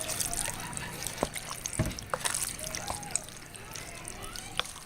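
Saved pasta water pours into a spicy Italian sausage pasta sauce, a soft trickle with light drips and small clinks of a pan, faint and close over a low background hum.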